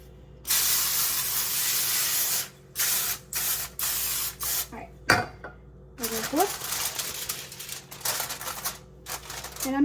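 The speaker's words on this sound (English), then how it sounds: "I do want to spray it just to make sure the chicken does not stick to the foil" Bursts of cooking spray hiss onto aluminum foil in several short and longer blasts, with soft rustling and a brief voice between sprays.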